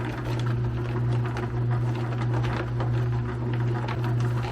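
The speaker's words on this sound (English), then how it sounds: "You can really hear those rocks tumbling." Rocks tumble inside a homemade ABS plumbing pipe tumbler barrel with baffles, a steady low motor hum under soft, continuous rattling and pattering, fairly quiet and close.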